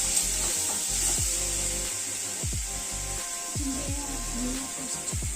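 Chopped tomatoes fry in a pan for egg curry with a steady broad sizzle while a utensil stirs and scrapes the pan in repeated strokes, close up and without speech.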